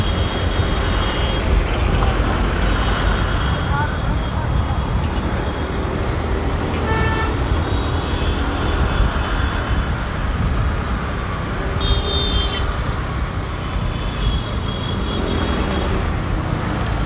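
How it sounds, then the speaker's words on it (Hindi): Road traffic jam in Delhi near a blocked bypass in a flood zone, with a steady roar of engines and traffic close around, and a few car horn toots standing out briefly over the din. "तो भाई यहाँ पर ट्रैफिक जाम मिल गया है हमें"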